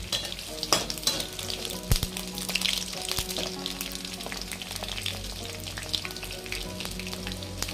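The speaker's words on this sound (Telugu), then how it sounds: "చింతపండు మాత్రం ఇందులోనే వేసి వేపుకుంటున్నానండి." Tamarind and green chilies fry in a pan for ivy gourd (dondakaya) chutney, giving a steady close sizzle broken by scattered clicks and scrapes of stirring, with no talking.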